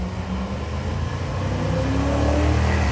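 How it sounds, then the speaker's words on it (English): A Pontiac Trans Am drag car launches at a drag-racing event, its engine roaring loud and steady and rising in pitch throughout, with no talking. "The Trans Am gives wheels up in chase"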